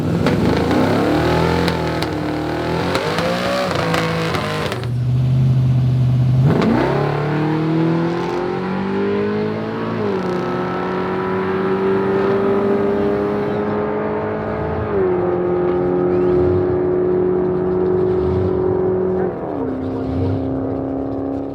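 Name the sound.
drag race car making a pass down the strip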